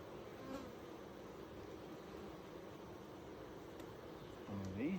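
Honey bees hum steadily throughout an opened hive box being worked for honey, a dense, close buzzing drone with a brief louder swell near the end.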